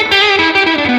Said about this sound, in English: the real magic with tube amps happens when you crank up the volume. And what that does is it overdrives the tubes and creates a really natural sounding type of distortion called overdrive